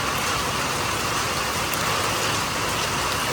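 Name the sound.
heavy rain outside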